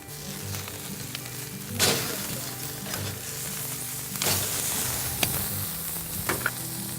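Steaks sear over a wood fire on a Kalamazoo outdoor grill, a continuous close sizzle with sharp bursts of crackling as the meat is moved on the grates.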